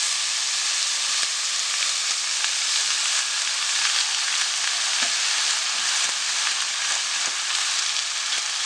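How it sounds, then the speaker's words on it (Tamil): Grated beetroot fries with onion and green chilli in a pan, giving a loud, continuous sizzle with occasional scraping from stirring. "புட்டரிப்பில் வச்சு நல்லா இந்த வெங்காயம் பச்சை மிளகாலாம் வெந்த பிறகு இந்த சீவி வச்சுருக்க பீட்ரூட்டை"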